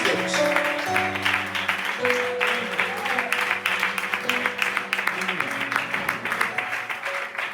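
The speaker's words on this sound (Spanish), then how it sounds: "Un aplauso para el Señor y el siervo con ustedes." Church congregation applauding over sustained organ or keyboard chords, a steady moderate clatter of hands with no break.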